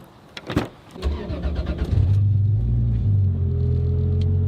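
A Holden car's engine cranks and catches after a few door and cabin clunks, then settles into a deep, steady rumbling idle close up, with no talk.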